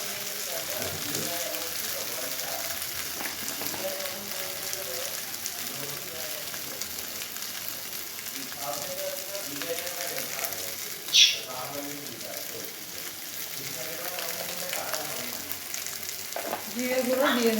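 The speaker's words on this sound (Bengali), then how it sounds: "আমি আদা বাটা দিয়ে ভালো করে একটু জল দিয়ে কষিয়ে নেব" Ginger paste and ground cumin sizzle steadily as they are sautéed in a pan for niramish aloor dum, a continuous close frying hiss with occasional stirring scrapes, while a voice talks intermittently over it.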